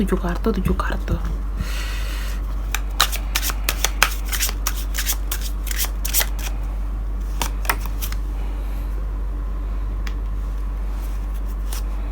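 A deck of tarot cards is shuffled close by in a long run of crisp riffles and sharp clicks, denser at first and then more scattered, over a steady low hum.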